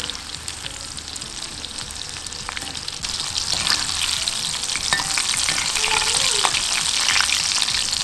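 Prawns for Prawn 65 deep-fry in hot oil, a dense crackling sizzle that swells louder about halfway through and keeps bubbling steadily, with no voices.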